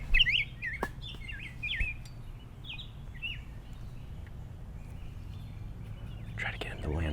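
Rose-breasted Grosbeak song played back from a phone lying on the woodland ground: a series of short, bright warbled phrases, fairly close, over low rumbling background noise.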